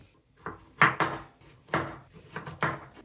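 A knife chops carrots on a cutting board while pork stew is being prepared, giving a handful of close, uneven wooden knocks and taps in a quiet kitchen with no talking.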